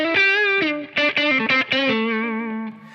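A distorted electric guitar played through a 1990s ProCo Rat 2 distortion pedal, with a few sharp, compressed chord stabs followed by a held, ringing chord that fades out.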